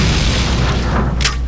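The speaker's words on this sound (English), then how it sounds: "Explosions already." A deep, rumbling video game explosion in M.A.X. roars continuously, loud and close, with a brief sharper burst near the end.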